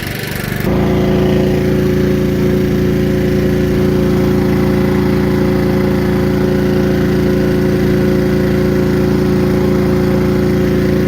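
Gasoline engine driving a trash pump on a homemade wildland brush fire truck, catching and then running at a loud, steady, even drone close by, continuous and alone without talk.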